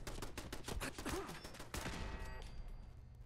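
Enemy gunfire in the video game Fallout 4: rapid bursts of shots crack out close and loud for about two seconds, then a ringing tail fades away with no one talking.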